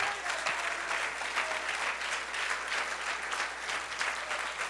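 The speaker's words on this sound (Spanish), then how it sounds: "Dale el aplauso a Cristo." Congregation applause at an evangelical church service, a dense and steady round of clapping from a large crowd that holds at an even level throughout.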